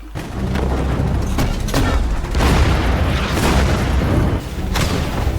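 Dense, continuous rumbling blasts with sharp cracks layered throughout, like heavy explosions and gunfire close by, loud and sustained.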